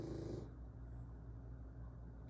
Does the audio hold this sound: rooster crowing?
no